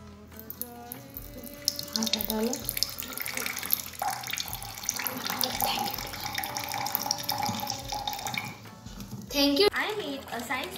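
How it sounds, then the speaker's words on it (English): Water runs steadily from a school science-project water dispenser at a primary school science day, a continuous splashing flow under children's voices and chatter nearby. "I have made a science project is a water dispenser."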